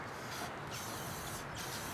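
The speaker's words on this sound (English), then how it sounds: "This is just cheap Krylon spray paint." Cheap Krylon spray paint hisses from a can onto a rusted metal tree stand, a close continuous spray lasting about two seconds with no talk.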